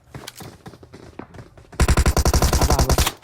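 Automatic gunfire in the mobile battle royale game BGMI rattles out in a rapid, evenly spaced burst of loud shots that follows a few scattered quieter thuds and clicks.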